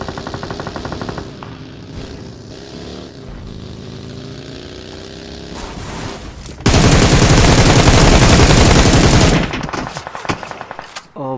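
Automatic gunfire in BGMI fired from a prone position: a long, loud rapid-fire burst of close shots follows quieter game ambience and fades into scattered noise afterward.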